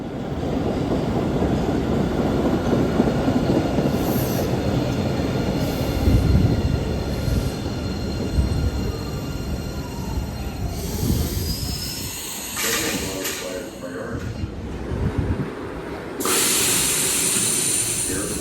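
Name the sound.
Siemens 700 series MBTA Blue Line subway train arriving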